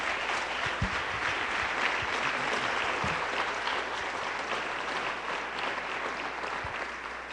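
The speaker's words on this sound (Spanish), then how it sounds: "Démosle un aplauso al Señor y nos ponemos de pie." A congregation at a church service claps steadily together, a dense sustained round of applause for the Lord at moderate distance with occasional louder claps and no speech over it.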